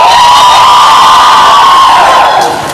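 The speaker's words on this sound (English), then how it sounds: "Let me hear how loud you can cheer for yourselves." A crowd of girls at an event cheers and screams loudly and continuously, the sustained roar tapering slightly at the end.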